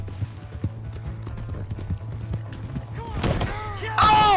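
Horse hooves clip-clop steadily in Red Dead Redemption 2, a repeated rhythmic beat over a low hum, ending in a louder burst of cries and whinny-like sounds near the end.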